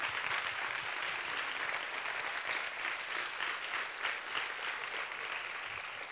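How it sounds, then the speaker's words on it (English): A church congregation claps for its pastors, steady dense applause sustained evenly throughout at moderate volume, with no voices rising above it. "would you guys give Pastor Troy and Pastor Penny a big, big, huge round of applause?"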